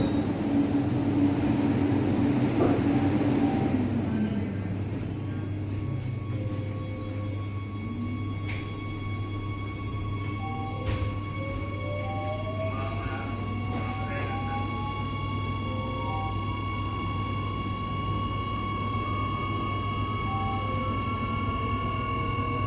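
An LRT Jakarta light rail train rides between stations, giving a steady low rumble with a constant hum, rising motor whine tones and brief clicks, while voices speak over it throughout.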